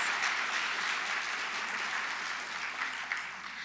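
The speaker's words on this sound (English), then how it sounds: "let's give him and the Travis County Media Services a huge, huge, huge, huge round of applause" A luncheon audience at a county volunteer recognition event gives a sustained round of applause, a continuous, fairly soft wash of many hands clapping with no talk over it.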